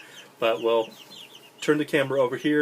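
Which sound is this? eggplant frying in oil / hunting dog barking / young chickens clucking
young chickens clucking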